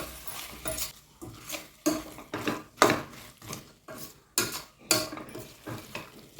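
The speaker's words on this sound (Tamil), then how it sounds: "மிக்ஸ் ஆகிற வரைக்கும் இப்படி நல்லா கிளறி விட்டுட்டே இருங்க" Mutton curry being stirred with masala in a pan, a spoon scraping and clanking against the metal in a steady series of roughly a dozen close, sharp strokes, with no voices.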